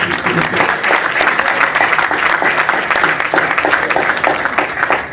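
A room of people at a press conference claps in dense, sustained applause for several seconds, close and fairly loud, with some voices mixed into the clapping.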